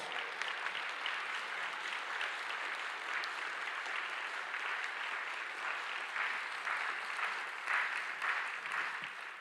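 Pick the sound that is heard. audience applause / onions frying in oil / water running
audience applause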